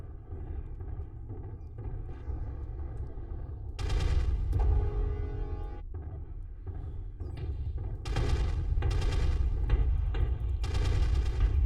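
Rifle gunfire from a rifleman in a video game: rapid bursts of sharp shots over a constant low rumble, with a long volley in the middle and more clustered bursts toward the end.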